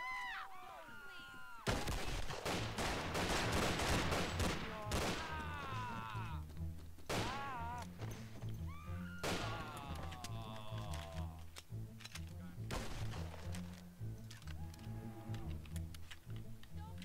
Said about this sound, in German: die fangen dann direkt an zu schießen